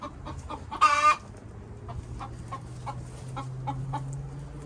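A hen clucks in a backyard chicken run, a sharp loud squawk followed by a steady series of softer rhythmic clucks nearby, with faint background noise.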